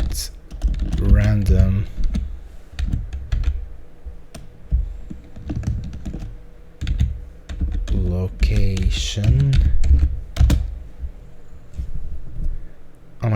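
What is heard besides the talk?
typing on a loud computer keyboard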